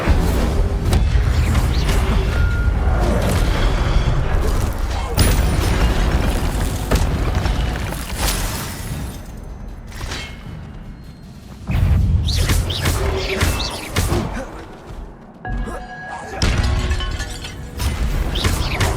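Incendio fire spells cast in the video game Hogwarts Legacy, loud roaring bursts and booming whooshes that come in repeated waves, each surge of flame swelling and fading with dense rumbling effects throughout.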